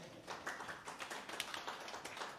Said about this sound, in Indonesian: Berikan tepuk tangan dulu buat Pak Pote